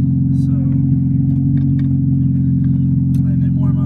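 A Honda car with a freshly swapped engine warms up on open headers with no exhaust, giving a loud, steady, throbbing idle with harmonic drone, while people talk faintly over it.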